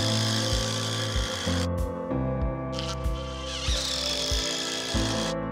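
A power tool driving screws into heavy timber on a cabin entrance build, a loud continuous whirring motor with brief pauses and rising bursts as each screw bites, close up.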